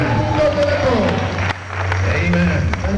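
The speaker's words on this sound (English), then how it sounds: "Come on, give him a hand clap today." A church conference congregation breaks into sustained hand clapping and applause, loud and continuous, with voices and a pitched musical tone carrying over the crowd noise throughout.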